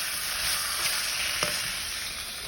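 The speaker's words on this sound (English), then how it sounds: "I'm going to fry that with the curry" Chicken breast frying with massaman curry paste in a pan gives a steady, close sizzle for the whole stretch, with a faint stir or scrape clicking through near the middle.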